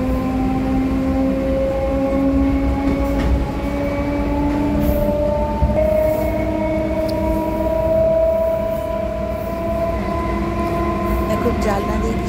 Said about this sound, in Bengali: ট্রেনে উঠে পড়েছি, সঙ্গে সঙ্গে ট্রেনটা পেয়ে গেছিলাম